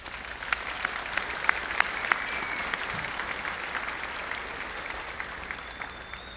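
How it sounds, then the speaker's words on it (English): A crowd applauding steadily at a high school graduation ceremony, a dense wash of clapping with a few sharper claps standing out, sustained throughout. "let's give them all a quick round of applause, graduates"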